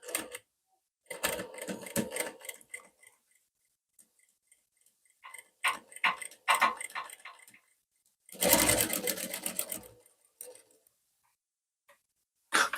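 A sewing machine stitches a rounded dart on a blouse front. It runs in short, stop-start bursts of rapid ticking with quiet gaps between them, close and fairly soft.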